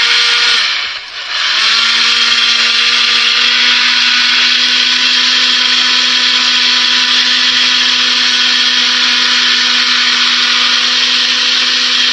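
A mixer grinder whirs loudly and continuously, grinding ginger and garlic into a masala paste for a wedding-style mutton dalcha, with a brief dip near the start before the steady drone resumes.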